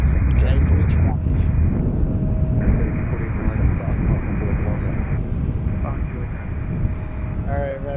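An American Airlines A320 arriving from Charlotte passes over Gravelly Point at Washington's Reagan National Airport (DCA), its loud, steady jet roar filling the whole stretch, with a brief voice near the end.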